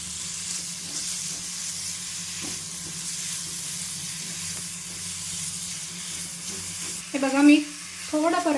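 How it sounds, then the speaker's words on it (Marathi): Onion sautéing in a pan for palak paneer, a steady soft sizzle and hiss running throughout with faint stirring, and a voice briefly speaking near the end. "थोडंच परतायचं"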